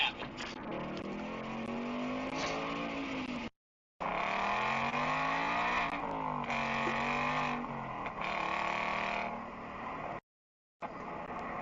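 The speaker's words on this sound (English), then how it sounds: "Opened up the exhaust, see what happens." A sports car engine revs hard and loud with an open, raspy exhaust, rising and falling in pitch, with a couple of brief cutoffs.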